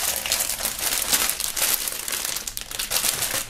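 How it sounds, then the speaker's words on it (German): A shirt is pulled out of a plastic foil wrapper, giving steady, loud, close-up crinkling and rustling throughout, with no one speaking. "wir werden das Shirt mal aus der Folie holen"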